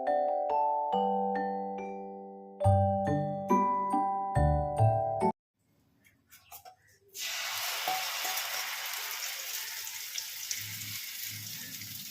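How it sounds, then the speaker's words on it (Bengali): After a stretch of bright plucked music and a brief pause, mustard oil in a kadai breaks into a loud, continuous close sizzle that holds steady to the end, with no one talking. "কড়াইতে সর্ষের তেল দিয়ে দিয়েছি,"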